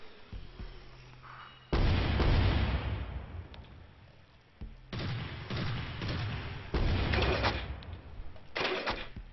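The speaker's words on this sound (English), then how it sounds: "Firing main cannon." The main cannon of a warship fires in the video game Warship: Leviathan, with four loud, heavy blasts, each a long rumbling boom that stays loud before it fades, separated by quieter gaps.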